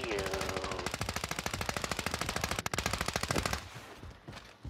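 Rapid automatic gunfire in the Warzone video game, a dense unbroken burst of loud shots lasting several seconds before a brief pause and a final shot, with faint voices in the background.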